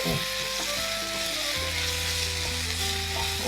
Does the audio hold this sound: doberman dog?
no